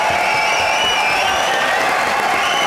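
Audience at a televised boxing match clapping and cheering steadily throughout, a dense continuous wash of applause with occasional whoops.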